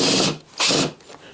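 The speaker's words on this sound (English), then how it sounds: "So again, I'm using 1-inch pocket screws, and I'm just gonna go in here" A power drill drives 1-inch pocket screws into a wooden table base, giving two loud whirring bursts of about a third of a second each, close by and with no talking.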